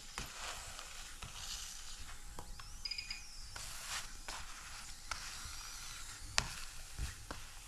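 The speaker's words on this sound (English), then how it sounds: "You can hear the difference in the sizzling." Paratha frying in rapeseed oil in a pan gives a faint, steady crackling sizzle with scattered small pops, heard at a distance in a quiet kitchen.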